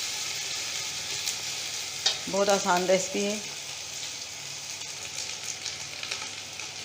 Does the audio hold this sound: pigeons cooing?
no